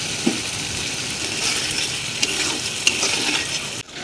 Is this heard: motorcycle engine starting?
no